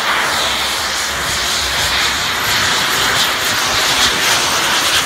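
Franky Zapata's jet-powered flying platform with five mini jet engines, at the French national day celebration, gives a loud, continuous roaring jet whoosh that holds steady throughout, with no voices.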